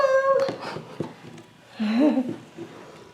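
A pet cat meows close by, giving a short cry, a few soft chirps and then a longer, louder drawn-out meow, with light room noise in between.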